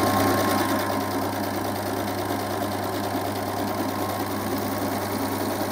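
A Brother Airflow 3000 overlocker serges thin fabric with a steady, fast mechanical whir and hum that runs without a break, close and fairly loud, with no talking.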